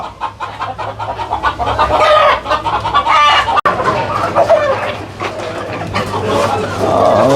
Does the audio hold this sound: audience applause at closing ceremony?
no